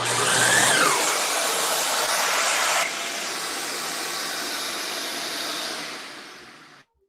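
A cyclone dust collector wired to a miter saw roars with a loud, airy whoosh, drops to a slightly lower steady rush partway through, then winds down and cuts off near the end.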